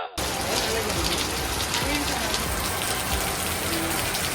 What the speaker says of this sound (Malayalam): ഫുൾ മഴ ഫുൾ മഴയല്ലേ